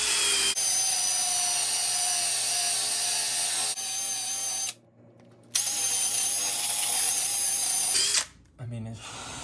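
A power tool grinds metal on a 1968 Mustang project car, a loud continuous whine running steadily for several seconds, cutting out briefly, then resuming before stopping near the end.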